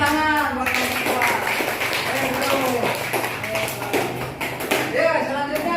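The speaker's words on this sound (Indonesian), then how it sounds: "Tepuk tangan buat teman-teman" A school class in an Islamic religious education lesson claps for classmates, with scattered, uneven clapping mixed with children's voices and classroom chatter throughout.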